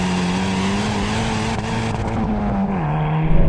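A Hyundai i30 N hatchback accelerates with a close, steady engine drone whose pitch holds, dips briefly, then rises again as the revs build.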